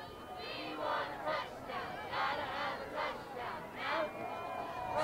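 The Gator crowd at a Standley Lake vs Green Mountain football game chants for a touchdown, a large group shouting in a rhythmic, repeated, swelling cadence of loud bursts.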